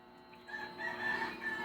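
A rooster crows faintly at a distance amid outdoor ambience, a short strained call with no one talking over it.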